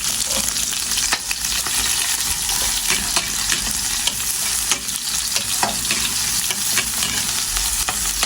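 Garlic and onion sauté in hot oil with a loud, steady sizzle and crackle, broken by occasional scraping taps of a utensil stirring the pan, close and continuous throughout.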